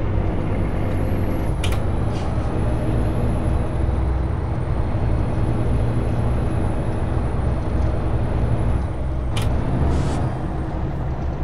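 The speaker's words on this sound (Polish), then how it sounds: "Uruchamiamy hamulec, bo my wjeżdżamy właśnie do miasta" A Peterbilt 379 truck in American Truck Simulator lets out short air-brake hisses twice over a constant, loud engine and road drone, with no talking.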